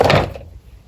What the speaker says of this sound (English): I'm going to put this in the drawer